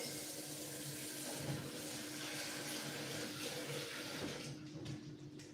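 Water running from a tap in a home kitchen, a faint, steady splashing flow that continues evenly throughout with no voices.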